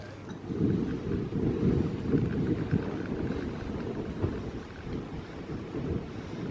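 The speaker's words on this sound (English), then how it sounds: "You can probably hear the wind" Steady wind gusts buffet the microphone outdoors on a warm day in Yorkshire, a continuous low roaring rush that swells and eases throughout with no speech.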